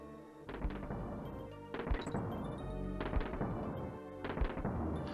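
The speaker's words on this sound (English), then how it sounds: "So cannons are shooting at you." Heavy cannon blasts in Donkey Kong Country 2 boom at regular intervals, four deep thuds each followed by a rumbling tail, loud and close with no talking.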